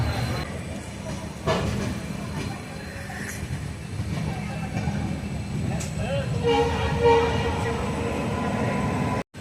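A passenger train on the NJP to Alipurduar tourist express pulls away from a station, its steady low rumble of rolling wagons running under faint background chatter, with brief tonal squeals or a distant horn near the end before stopping abruptly.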